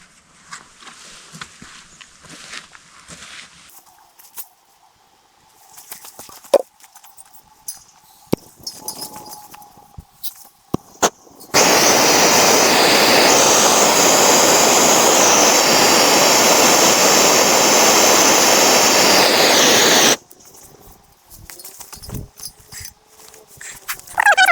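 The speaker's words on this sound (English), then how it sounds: "I'm just going to dump the rest of this fuel on there and light that" A third of a gallon of fuel dumped on a pile and lit on a property, burning with a loud, steady broadband whoosh that holds for about eight seconds before cutting off, after quieter outdoor clatter.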